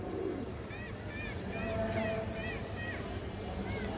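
A big-headed long-route pigeon coos in short repeated phrases, several soft rising-falling calls close by over a steady background hum.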